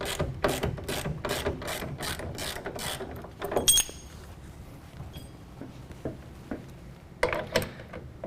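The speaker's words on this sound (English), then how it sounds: "you want to loosen up the two rear clamps" A ratchet wrench loosens the rear clamps of an UnderCover Armor Flex tonneau cover in fast bursts of sharp, close clicks. A pause with a few scattered taps follows, then another quick run of clicks.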